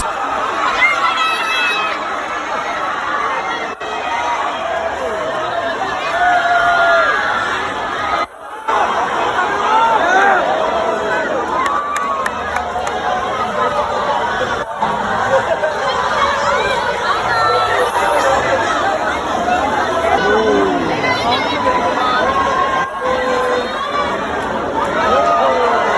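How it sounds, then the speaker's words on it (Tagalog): A crowd of Filipino spectators at a show chatters and shouts steadily throughout, a dense, loud babble of many voices with occasional louder whoops rising out of the noise. "every time na may bagong ipapakita, todo hiyawan ng mga Pinoy"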